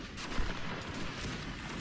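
A volley of musket fire in the Napoleonic Wars mod of the video game Mount&Blade Warband: a dense, continuous crackle of overlapping shots lasting a couple of seconds.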